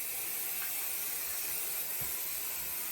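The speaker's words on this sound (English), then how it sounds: "I want to get as much sprayed as I can here." Steady hiss of a spray aimed at white quilt fabric on an ironing board, a continuous close airy rush with no pauses and no talk.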